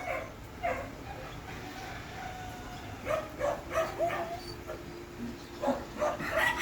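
Several dogs outside bark, yip and whimper excitedly in short clustered bursts against a steady background murmur, their calls moderately distant and rising in intensity toward the end.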